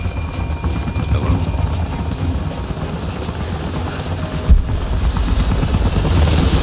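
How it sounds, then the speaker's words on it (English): Helicopters approach in the Geothermal Valley of the Rise of the Tomb Raider video game, a loud, steady, churning rotor rumble with scattered sharp impacts and a sudden jolt midway. "Jacob, helicopters are headed your way."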